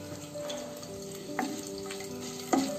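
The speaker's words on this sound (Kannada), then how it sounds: "ಇದು ಒಂದು ನಿಮಿಷ ಇದನ್ನು ಹಾಗೆ ಫ್ರೈ ಮಾಡೋಣ" Whole cinnamon, black peppercorns and opened cardamom frying in hot oil for an aloo masala curry, a steady close sizzle with two sharp stirring clinks or scrapes near the middle and end, no talking.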